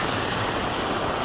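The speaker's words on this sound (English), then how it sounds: "We're getting a little bit wet in the rain here." Pouring rain outdoors on the Appalachian Trail near Hiawassee, a loud, continuous rushing hiss close to the microphone with a gusty, wind-like roar.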